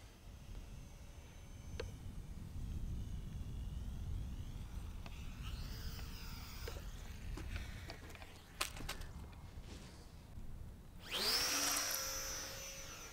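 An Eachine RC warplane's electric motor runs up under throttle for takeoff. A faint, steady whir swells into a louder, rising whine near the end, and no one talks.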